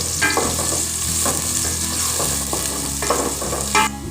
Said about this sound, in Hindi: ऑयल हमारा गर्म हो जाएगा तो हम इसमें प्याज डाल देंगे। प्याज को हम अच्छे से फ्राई कर लेंगे।